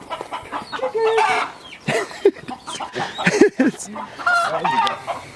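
Chickens cluck and squawk in short, irregular bursts during an attempt to catch one, close and fairly loud, with people talking and calling out among them.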